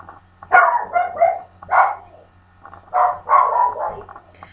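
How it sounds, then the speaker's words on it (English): A dog barks in repeated loud bursts, quick runs of sharp yaps and bow-wows coming in two clusters, fairly close indoors, with no one talking. "Sorry if you can hear the dog going crazy."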